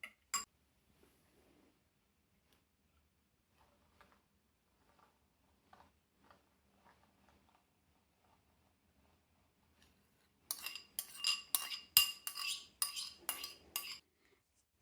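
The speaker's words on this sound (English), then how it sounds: "So I'm just going to give that a little bit of a mix through." Quiet scattered taps, then a burst of brisk clinking as a spoon stirs homemade flaxseed hair gel in a container, several seconds of rapid scraping strokes close by.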